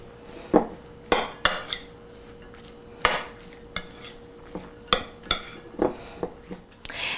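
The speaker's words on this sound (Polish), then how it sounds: "I całość dobrze mieszamy." Lentil salad dressed with fresh lemon juice and olive or grapeseed oil being stirred in a bowl, with loud, irregular clinks and scrapes of a utensil against the dish, heard close and alone.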